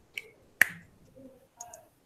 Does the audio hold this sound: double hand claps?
yes